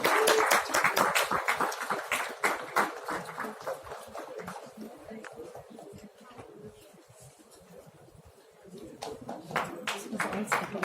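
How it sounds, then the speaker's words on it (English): Applause from the audience at the CII Knowledge Summit 2019 knowledge-management panel, dense clapping that swells at the start, thins and fades through the middle, then builds again near the end, with voices talking over it. "Big round of applause."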